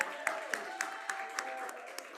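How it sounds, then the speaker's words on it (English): Scattered clapping at a research symposium, a handful of regular distinct claps over a soft bed of crowd applause, with a faint steady tone running underneath. "So can we get a round of applause for that?"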